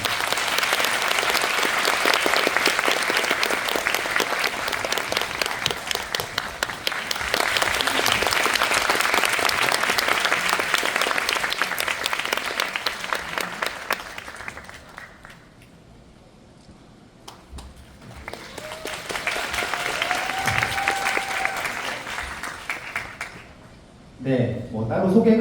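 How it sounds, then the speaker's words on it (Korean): A large audience at a Busan International Film Festival talk for a film remake claps in loud, sustained applause that fades into quiet, then swells again before brief talking. "박수 부탁드리겠습니다."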